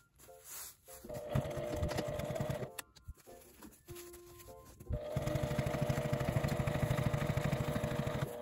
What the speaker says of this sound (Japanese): ポケットの入り口の端から下まで縫います。